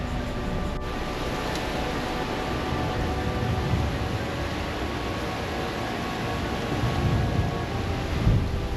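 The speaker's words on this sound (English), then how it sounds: "I don't know if you can hear the absolute madness that the wind is out here right now" Strong wind roars steadily against the microphone outdoors, a dense rushing noise that swells slightly near the end.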